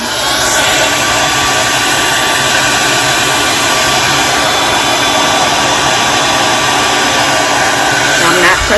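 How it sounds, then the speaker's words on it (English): A blow dryer whirs steadily at close range over a lace wig, a loud, constant airy roar with a high whine that holds unchanged throughout. "I can put a blow dryer to this"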